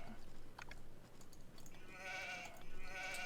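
Sheep bleating in the Celts on Nomad strategy video game, a couple of short wavering bleats in the second half over faint game ambience, with no talking.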